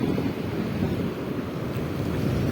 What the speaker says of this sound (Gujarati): મોજો તો ભાઈ જબરદસ્ત મોજા આવી રહેલા છે